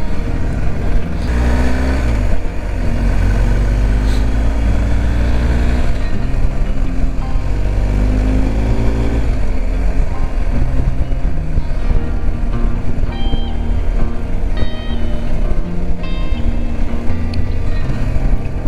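A motorcycle rides steadily along a rough road near Portisxeddu in Sardinia, its loud continuous engine drone holding a constant level throughout with shifting pitch.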